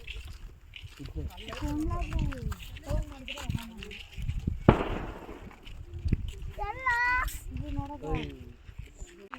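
A single sharp firecracker bang cuts through a crowd of excited voices and chatter near Bannerghatta hill, where an elephant has appeared, with shouting continuing around it.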